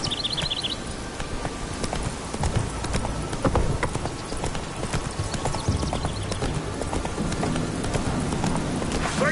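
Roach the horse gallops in The Witcher 3, with a steady fast clip-clop of hooves under continuous game ambience and a brief whinny near the start.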